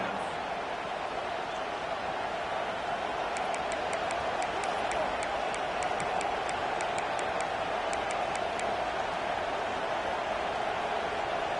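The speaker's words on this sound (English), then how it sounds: "This crowd bringing the energy and noise early." A packed stadium crowd at a Michigan college football game makes a continuous, loud, even roar that fills the whole clip without breaks.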